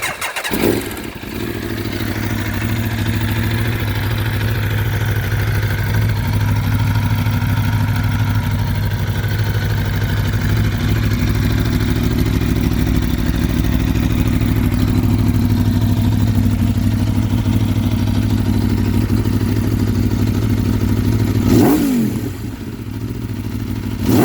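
A custom street-legal motorcycle converted from a race bike starts up and runs steadily, its loud engine note close and continuous for about twenty seconds before a brief blip and a sharp rise in revs near the end.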